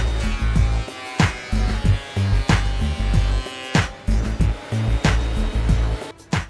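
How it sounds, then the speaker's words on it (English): A wood planer feeds old, crooked pine boards in repeated passes, a loud roaring drone broken by regular sharp bursts as each board hits the cutters, up close with no talking. "So I want to clean it all up by going through the planer."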